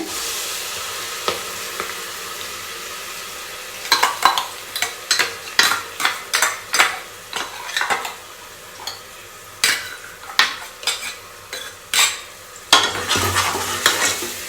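Ground paste fries in oil with curry leaves for a sprouted horse gram sambar, a low sizzle under repeated sharp scraping strokes of a spoon against the pan, quiet at first and then a quick, steady stirring rhythm.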